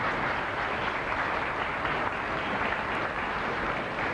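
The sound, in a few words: applause for graduating seniors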